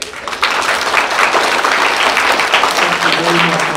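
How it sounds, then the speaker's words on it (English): An audience at a school reading event in a lounge in Reedley, California breaks into loud, sustained applause that swells after a brief start and carries steadily to the end, with some voices mixed in. "So let's give him a big round of applause."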